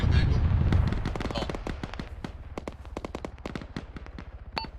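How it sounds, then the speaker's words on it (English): Rapid autocannon fire in the military game Arma, a dense volley of sharp repeated shots with a heavy boom at the start, echoing and fading at mid distance. "That's an autocannon with thermals."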